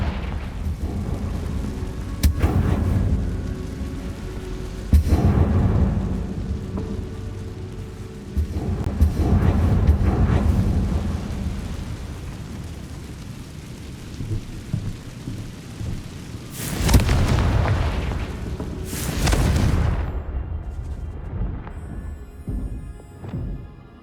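Confringo explosive spell blasts in Hogwarts Legacy, several loud booming detonations spaced seconds apart, with a crackling rumble that rolls on after each blast.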